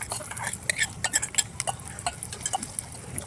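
Onions go into hot oil for a mutton curry and are stirred, producing quick, close clattering of a spoon against the pan over a faint, low frying hiss.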